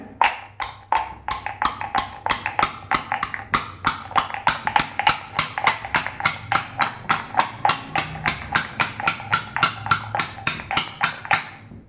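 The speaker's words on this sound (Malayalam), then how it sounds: "ചീനിമുളകും ചെറിയ ഉള്ളിയും ചതച്ചെടുക്കുകയാണ്" Bird's eye chilies and shallots pounded by hand to crush them, a steady run of close, sharp thuds repeating about three times a second with no pause.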